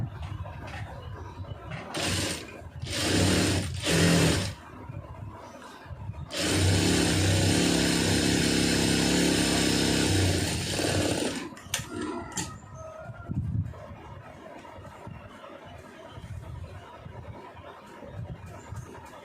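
Sewing machine stitching a lined blouse, running in loud bursts of steady mechanical whirring, with a long continuous run in the middle and quieter handling noises afterward.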